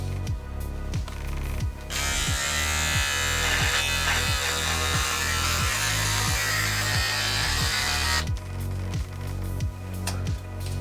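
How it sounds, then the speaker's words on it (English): A small electric trimmer buzzes steadily while evening out a mustache, its motor hum broken by rhythmic pulsing strokes, with a brighter, harsher stretch in the middle as it cuts close. "Then I use a little tiny trimmer to get the mustache a little more even"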